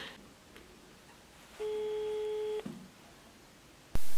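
Phone line tone heard while calling someone: a single steady electronic beep of about one second over quiet room hiss, followed later by a sharp click.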